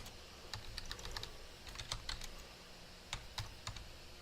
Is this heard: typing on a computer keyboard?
yes